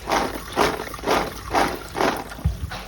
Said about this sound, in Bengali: প্রথমে আমি আমলকি পরিষ্কার করে ধুয়ে নিচ্ছি।